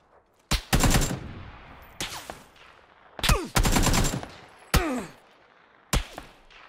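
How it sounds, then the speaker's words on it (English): Gunfire from the video game PUBG Battlegrounds: five separate loud, sharp bursts of automatic fire spaced about a second apart, each a short rattling volley followed by a trailing echo, with no talking over them. "Being shot at by his mate."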